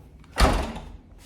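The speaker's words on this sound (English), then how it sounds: "This is a mirror style of the door." A mirrored bathroom door in a brand-new one-bedroom apartment makes one short, fairly close thump as it moves, with near silence before and after.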